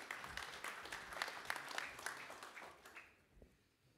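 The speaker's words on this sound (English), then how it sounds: "A round of applause, please." Audience applause at an EU-Türkiye business summit, a moderate dense patter of clapping that holds steady, then thins and fades out toward the end.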